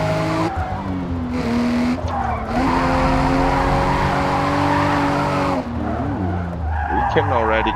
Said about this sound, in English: We can already keep some drifting.